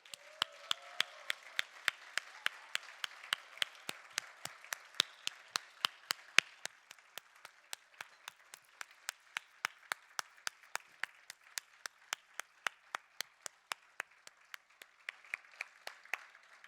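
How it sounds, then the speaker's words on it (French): Guests at an awards gala applaud the women winners and finalists, but only a few sparse hands are audible, one slow sharp clap after another at a steady pace through the whole stretch. "à les applaudir"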